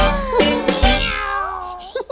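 A cat's drawn-out meows on a children's farm song, one clear meow followed by a longer rising and falling cry, close and prominent over light music.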